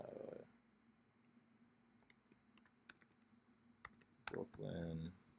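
Scattered, fairly faint keystrokes from someone typing a street address on a computer keyboard, with brief speech at the start and a voice again at the end.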